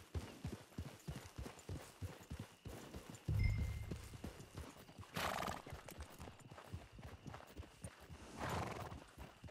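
In Red Dead Online, a horse's hooves clip-clop steadily at close range, with a loud neigh near the middle and another whinny toward the end, no talk.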